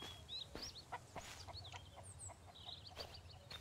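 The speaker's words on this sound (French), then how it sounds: "Et une poule." A hen in a zombie survival video game clucks in short, soft bursts, several brief calls spread across a faint, steady ambient background.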